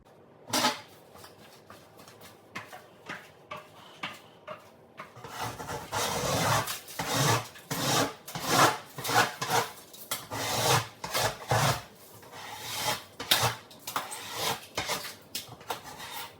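Rasping scrape of a tool working a hallway ceiling during house renovation, a sparse few strokes at first, then a steady run of rough, close scratching strokes, no voices.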